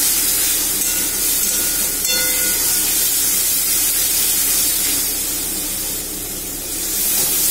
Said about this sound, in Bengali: মশলাটা ভালো করে কষতে হবে,